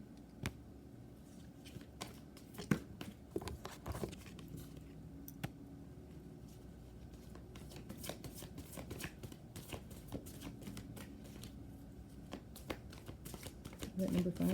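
Tarot cards being shuffled and drawn at close range, a soft run of papery riffles and slides with scattered taps, quiet and steady, with a voice speaking softly at times.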